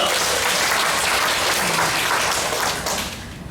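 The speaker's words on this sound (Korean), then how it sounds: "감사의 박수 한번 다시 보내주시기 바랍니다" Audience applause at a church peace-and-reunification gathering in Cheongju, a dense, steady clapping from a large crowd that holds throughout and eases off slightly at the end.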